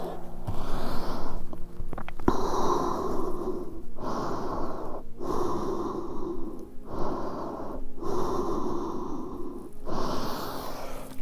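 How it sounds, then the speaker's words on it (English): Slow breathing in yoga child's pose: five or six long, close, audible breath cycles with airy inhales and exhales separated by brief pauses, alone without talk. "So breathing here in child's pose for a couple of breaths."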